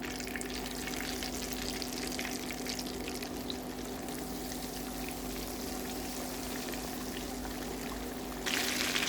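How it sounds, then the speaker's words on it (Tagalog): Chicken pieces deep-fry for crispy fried chicken, giving a constant bubbling sizzle of hot oil heard up close under a steady low hum, which grows louder in the last moment. "And let's fry the remaining"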